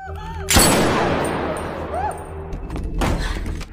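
A loud, booming gunshot rings out and decays, followed a few seconds later by a second shot, with faint voices in the background.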